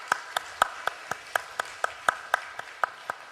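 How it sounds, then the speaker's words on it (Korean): A church congregation claps together in slow unison during a Wednesday worship service, about a dozen evenly spaced, crisp claps sounding fairly soft in a reverberant room. "우리 하나님께 영광의 박수 올려드리겠습니다."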